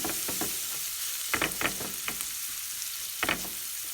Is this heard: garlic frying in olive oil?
yes